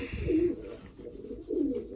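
Pigeons cooing in a loft with young squabs, two low, soft, rolling coos close by over a quiet background hum.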